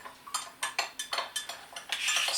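A spoon stirring malt extract into liquid in a bowl, making about nine quick rhythmic clinks against the sides that end in a brighter rattling scrape, close and quiet, with no voices.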